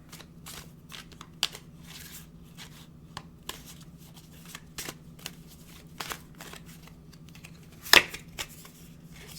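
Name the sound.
tarot cards being handled and drawn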